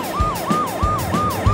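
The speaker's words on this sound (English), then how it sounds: "The Pororo ambulance's siren rang loudly" A loud cartoon ambulance siren wails in fast repeating up-and-down sweeps, steady and close, with no voices.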